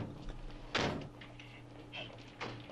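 A car's driver-side door swings shut with a single solid thunk near the start, followed by quieter fumbling and a faint second knock amid low room noise.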